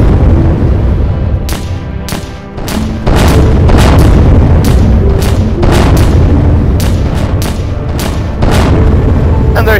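Rapid bursts of gunfire in a VR shooter game, sharp booming shots repeating in irregular clusters over a loud, dense background of in-game battle noise, close and dominant.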